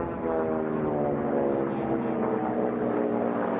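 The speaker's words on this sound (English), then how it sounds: "Good racing all across the course as the aircraft have spread out a little bit" Racing aircraft flying over an air race course, a continuous loud propeller-engine drone that holds steady throughout with a rough, buzzing tone.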